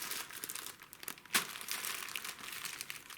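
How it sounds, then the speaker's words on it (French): A plastic bag crinkling and rustling as rice is poured in for a sock snowman craft, a steady close crackle with one sharper crunch partway through and no speech. "remplis le sac plastique avec du riz et ferme-le avec l'élastique"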